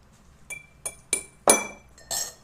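A spoon tapping sabja seeds into a glass, five or six bright separate clinks spaced about a third of a second apart, close and clear in a quiet room.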